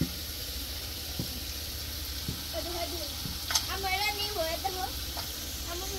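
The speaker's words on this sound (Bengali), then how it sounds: "এখানে হলো গরুর মাংসটা কষ খাইতেছে" Beef pieces sizzle and fry with spices in a cooking pot, a steady soft crackle with occasional stirring clinks and faint background voices.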